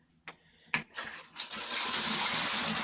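A freshly repaired faucet pours a steady stream of water that builds from a few splashes into a continuous close gush, with no talk.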